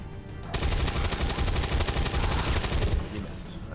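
Rapid automatic gunfire from an XCOM weapon rattles in a dense burst of about two and a half seconds, loud and close, then stops.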